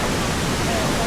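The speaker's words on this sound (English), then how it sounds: "the waterfall" A waterfall in Karura Forest gives a steady, dense rushing roar, loud and close, with no break or voices over it.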